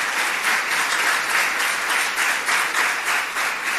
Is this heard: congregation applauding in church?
yes